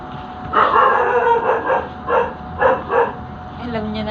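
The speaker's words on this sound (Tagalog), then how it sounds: "Alam na nito yung pag natahol yung aso eh." A dog barks repeatedly in a rapid, uneven series of sharp yips, fairly close, with a faint voice near the end.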